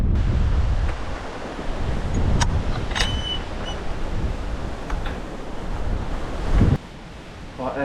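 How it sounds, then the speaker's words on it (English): Strong wind on an exposed hill summit roars and buffets the microphone in uneven gusts, with a few sharp knocks and crackles, dropping suddenly near the end. "the wind's just relentless"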